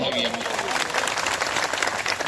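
Audience at a farmers' rights meeting outside the collector's office in Junagadh breaks into loud, sustained applause, a dense continuous patter of many hands close by, with a brief voice at the start.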